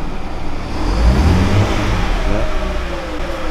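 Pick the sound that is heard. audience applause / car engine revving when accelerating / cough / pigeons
car engine revving when accelerating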